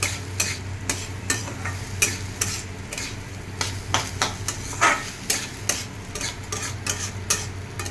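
Raw rice fries in a pan, with a low continuous sizzle broken by repeated sharp scraping strokes of a spoon stirring at an uneven, steady pace, close and clear.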